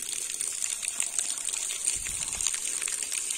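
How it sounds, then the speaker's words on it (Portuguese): Two 2-inch hydraulic ram pumps working on a good drop, pumping a steady flow of water: a dense, continuous rushing gush with faint knocking and splashing throughout, close and fairly loud, with no talk. "Olha aqui para vocês verem os dois carneiros trabalhando, né? Uma quantidade boa de água."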